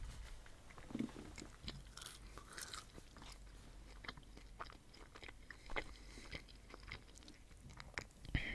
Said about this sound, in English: I'm just eating the fries that were in the bag.